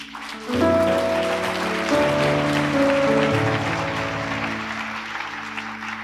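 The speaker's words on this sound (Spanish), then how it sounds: "Denle un aplauso al Señor" A church congregation claps loudly during a Spanish-language worship service, the applause swelling and going on for several seconds over sustained organ or keyboard chords.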